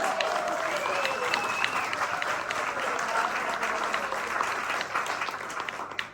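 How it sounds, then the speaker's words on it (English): Sustained audience applause at a political talk evening in a pub, dense and fairly loud clapping that holds steady for several seconds before cutting off, with faint crowd murmur underneath. "let's give him a big round of applause."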